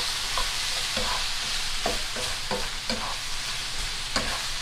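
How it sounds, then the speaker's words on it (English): Garlic fries in a pan while being stirred, a constant close sizzle broken by several distinct scraping strokes of a spatula against the pan. "Give that a little stir to get the garlic to get a little bit fried"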